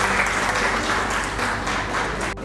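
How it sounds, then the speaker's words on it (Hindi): An audience at an achievers award ceremony gives a brief burst of dense, loud applause, sustained clapping that cuts off abruptly at the end. "एक बार जोरदार तालियां हो जाए प्लीज मानवी जम्वाल जी के लिए।"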